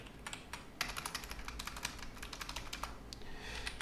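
Rapid clicking of a computer keyboard as someone types a search query, a close, steady patter of keystrokes with short bursts and brief pauses and no voices.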